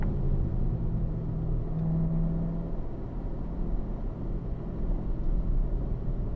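A Corvette on a cool down lap at a racetrack gives off a steady, low engine rumble that holds at a moderate level for several seconds as the car eases off.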